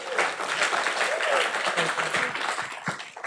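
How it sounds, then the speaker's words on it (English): Applause from a church-media conference audience rises throughout, a dense wash of clapping hands mixed with voices. "Let's give a round of applause."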